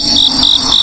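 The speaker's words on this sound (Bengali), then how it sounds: "ঝিঝি পোকার ডাক" Crickets chirp loudly and close by in a fast, rhythmic pulse of high trills, repeating in three bursts with no other sound.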